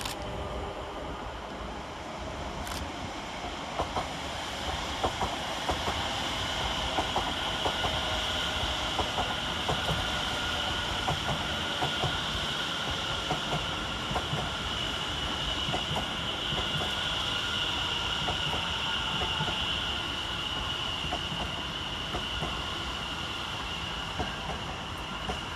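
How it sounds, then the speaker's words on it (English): Greater Anglia electric multiple units 72543 and 72556 arriving at Stratford station, a sustained rumble and whine of the train rolling in, steady and fairly loud with faint rhythmic clicks of wheels over rail joints. "72543 and 72556 arrive with the 1954 Greater Anglia service from London Liverpool Street"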